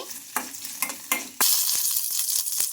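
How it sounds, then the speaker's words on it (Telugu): Green chillies and ginger frying in hot oil, a few sharp spatula knocks at first, then a sudden loud burst of sizzling that stays bright and steady with occasional scrapes, up close. "ఇంకా మనకు ఈ మిర్చి బాగా ఫ్రై అయిపోవాలి."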